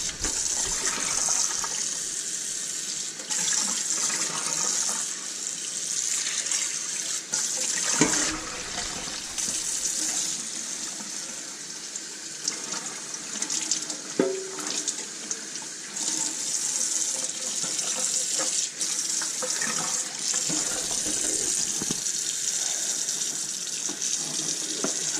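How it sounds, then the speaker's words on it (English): A sink tap runs hard into a very dirty pan being rinsed, a loud continuous gush and splash with shifting spatter as the water hits the metal, with no speech. "let's start rinsing it off some."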